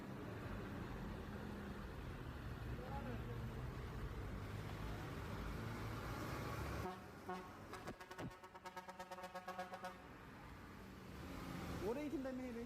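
Buses driving on a road in traffic as they head from Oromia into Amhara region, a faint rumble of passing vehicles with a distant horn toot, shifting to a different scene partway with talk over it.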